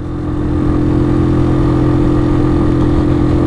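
A Superlight 125 motorcycle engine droning steadily in third gear at around 5000 rpm on an intercity road, loud and close with a constant mid-pitched hum and no speech.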